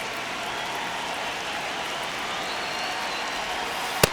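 Steady stadium crowd murmur in an MLB The Show baseball video game, Reds versus Cubs, during a one-run game in the ninth inning. The broad, even roar holds throughout, with one sharp click near the end.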